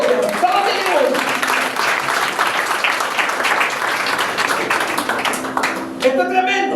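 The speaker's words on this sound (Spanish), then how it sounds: "Dale un aplauso al Señor." A church congregation claps and applauds loudly and densely for several seconds during a worship service, with voices and musical tones sounding beneath and at the end.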